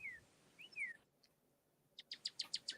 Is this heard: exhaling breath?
no